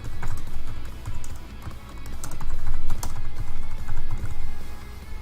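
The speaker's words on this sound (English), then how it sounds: "if you won't mind my typing, I gotta take some notes over wins and whatnot" Typing on a computer keyboard while taking notes: a steady, fairly close patter of key clicks running throughout over a low continuous background hum.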